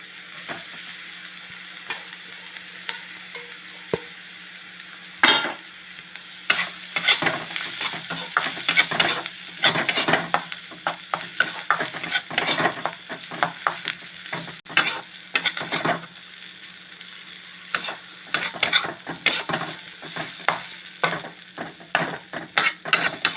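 Chickpea kachori filling stirred and fried in a pan, quiet low sizzle at first, then repeated scraping strokes of a utensil against the pan over steady frying, no speech.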